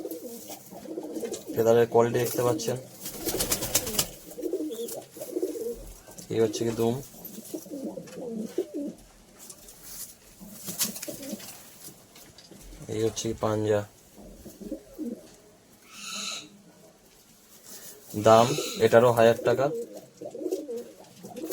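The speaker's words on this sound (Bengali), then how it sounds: "এটা উড়ানো পায়রা" Flying pigeons cooing in soft repeated bursts close by, heard alongside someone talking throughout.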